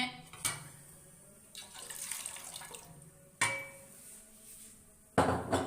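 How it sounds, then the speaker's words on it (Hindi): Milk is poured into a metal cooking pot for Kashmiri pink tea. Splashy, gurgling pours come in a few bursts, with sharp clanks from the pot in between. "इसके अंदर दूध आप उतना डालें जितनी आपने चाय तैयार करनी है"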